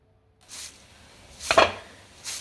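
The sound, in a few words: crispy fried onions being handled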